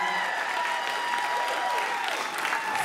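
Audience applause welcoming the band at a live music show, a dense continuous clapping and crowd noise sustained throughout at a strong, even level.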